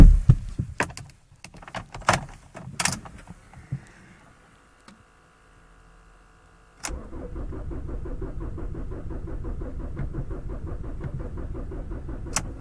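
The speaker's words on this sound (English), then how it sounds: "it turns over okay, but it just won't actually fire up" 2007 Jaguar X-Type 2.0-litre diesel cranking without firing: early door and interior clunks, a quiet pause, then a sustained rhythmic starter-motor churn that continues steadily without catching.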